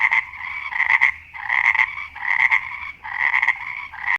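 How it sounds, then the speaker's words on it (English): A frog croaking in four loud, close, raspy pulsing calls separated by short gaps. "What sound does frog makes?"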